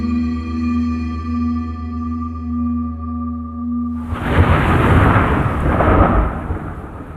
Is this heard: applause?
no